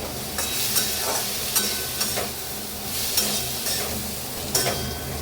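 Garlic and dried red chillies frying in a pan give a continuous sizzle, broken by regular scraping stirs of a spatula roughly every second.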